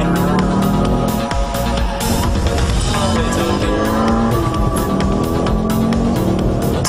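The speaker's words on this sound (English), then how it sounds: "Gentlemen, start your engine." Car engine running loud and close during a warm-up drive, with a steady droning roar and rising and falling revs, and no voices over it.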